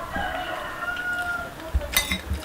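A rooster crows in a drawn-out call against a steady background hum, with a few soft thumps near the end.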